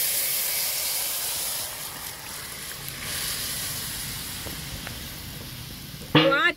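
Yogurt and potato kadhi hisses steadily in a hot wok on the stove after being poured in, a continuous sizzle that ends with a brief voice.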